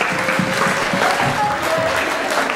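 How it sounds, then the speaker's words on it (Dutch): Students at a school event in Oostburg applaud, a steady, dense wash of clapping from a sizeable crowd that stays even throughout, with a faint voice audible underneath. "ik zou willen vragen, een groot applaus voor jullie zelf"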